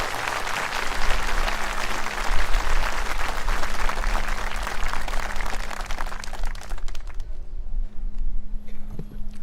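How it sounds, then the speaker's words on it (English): A crowd at an Army and Navy Academy Veterans Day parade claps steadily for a color guard team, a dense burst of applause lasting several seconds before it fades out. "please join me in a round of applause to show our appreciation for our color guard team"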